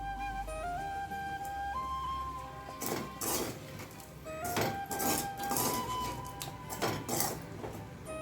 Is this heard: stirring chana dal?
yes